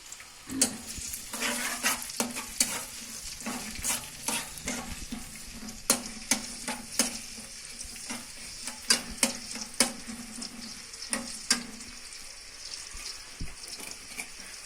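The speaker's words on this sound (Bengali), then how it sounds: "পেঁয়াজগুলা ভেজে নিচ্ছি।" Onions frying in a pan, with spatula stirring that clacks and scrapes in irregular bursts over a soft continuous sizzle. The sound is close and fairly quiet, and no one speaks.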